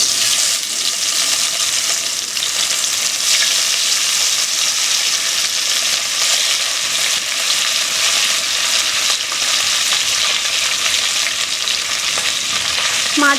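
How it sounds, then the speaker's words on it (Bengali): Small bacha fish frying in hot mustard oil, a loud, continuous sizzle with a dense crackle that holds steady for the whole stretch, a faint clink at the very end, no voices. "তেলটা খুব ভালো মতো গরম হয়ে গেছে। এবার আমি মাছগুলো ভেজে নেব।"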